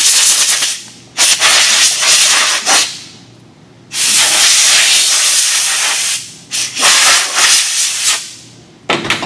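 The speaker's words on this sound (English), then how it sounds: "I spray, blow it off good with compressed air" Loud bursts of compressed air hiss in repeated blasts cleaning a transmission pan gasket on a 2006 Lincoln Town Car, some short and some held for a couple of seconds, with brief pauses between.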